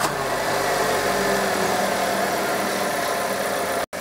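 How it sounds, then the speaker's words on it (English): A K11 Nissan Micra's 1 litre engine idles steadily up close, a loud even mechanical drone with a faint rhythmic pulse, running alone without talk and cutting out for a moment near the end. "Let's start her up. Let's listen to that 1 litre engine."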